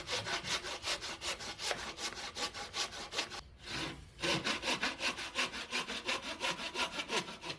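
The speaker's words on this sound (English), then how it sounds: "So I'm going to rough in the bevel with a handsaw" A handsaw roughs in a bevel on a wooden quarterknee for a boat's sheer structure, with steady rhythmic rasping strokes, close and loud. One short pause breaks the strokes partway through before the sawing resumes.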